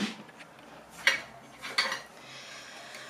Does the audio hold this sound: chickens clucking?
no